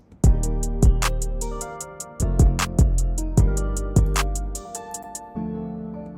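A mixed hip hop beat built in FL Studio thumps with heavy booming bass hits, crisp snare and hi-hat ticks and melodic tones, loud and upfront in a steady groove with no voices.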